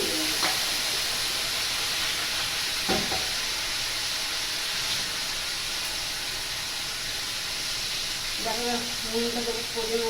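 Prawns sizzle and hiss steadily in hot oil in a pan, with bottle gourd about to join them; the frying stays close and constant, with a brief voice near the end.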